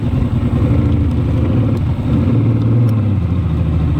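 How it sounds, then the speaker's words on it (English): Boat engine running rough during a sonar search on a lake with a rocky bottom, a steady close mid-pitched drone with uneven throbbing and no talk. "Engine's acting up"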